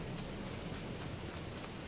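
Steady rain pours down throughout in Farming Simulator 22 on the Attingham Park map, a dense, even hiss with no breaks or voices.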